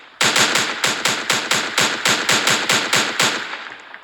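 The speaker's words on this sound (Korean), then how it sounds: "뭐야 총알 소리 대박 무섭네." Rapid machine gun fire in a video game, a loud steady burst of about fourteen evenly spaced sharp shots that fades slightly at the end, with no talk.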